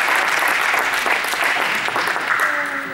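An audience applauds steadily at a beach tennis talk, a dense, loud wash of many hands clapping throughout, easing slightly near the end.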